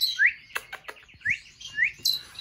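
Pet finches chirp nearby in a quiet room, giving several short, bright rising tweets and a few sharp clicks spaced irregularly with brief pauses between them.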